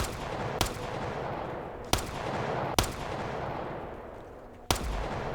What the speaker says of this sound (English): that is a loud gun